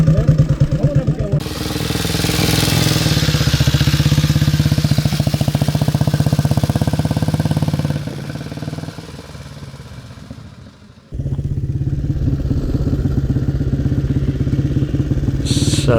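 A 1920s hand-change motorcycle with a hand throttle runs loud and close, its engine note steady and throbbing, dipping lower for a few seconds before picking back up to full strength.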